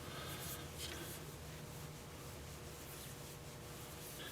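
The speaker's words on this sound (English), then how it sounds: "And I just like to rub it in real good." A rag rubs Howard Feed and Wax into a turned olive wood dish, a continuous soft close scrubbing hiss with gentle back-and-forth swishes and no talk.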